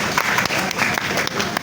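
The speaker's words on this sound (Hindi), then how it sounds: "आप सबकी पुरजोर तालियों में।" An audience applauds at a certificate-presentation ceremony on stage, a thick, continuous wash of many hands clapping close by with sharper individual claps standing out.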